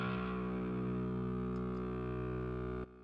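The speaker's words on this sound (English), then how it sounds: "you can have a listen to the bass just on its own" A distorted synth bass tone from an electronic track plays alone as one steady, buzzing sustained note with dense, gritty harmonics, cutting off abruptly near the end.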